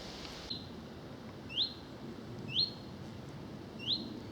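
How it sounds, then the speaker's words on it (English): A nuthatch sings on a countryside walk in Surrey, giving three short, bright, upward-sweeping notes spaced about a second apart. They are moderately near over a low, steady outdoor hum, with no talk. "there's the old nuthatch again, I do believe"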